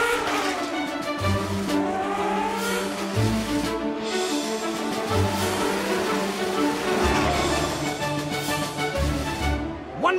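A cartoon race car, the Mechana race rabbit, revs its engine in repeated bursts, rising and falling whines with short gaps between, loud and close, set against a busy animated soundtrack.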